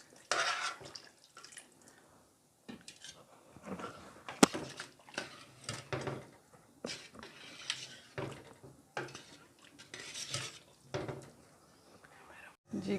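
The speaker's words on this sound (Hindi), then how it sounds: "इसमें अब मैं ये घुला हुआ आटा डाल दूँगी और इसके डालने के साथ ही चम्मच भी हिलाते जाएंगे" A spoon clinks and scrapes around a pot of chicken nihari as dissolved flour is poured in and stirred, giving quiet irregular taps and swishes with pauses between them.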